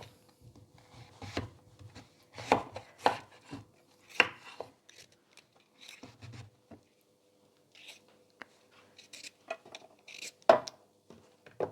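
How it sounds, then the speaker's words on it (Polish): A knife chops vegetables, including peeled pumpkin, on a cutting board for a light orange vegetable soup: quiet, irregular knocks and taps scattered in small bursts with pauses, no talk. "Zaraz sobie to wszystko w kawałki pokroimy i będziemy dalej robić."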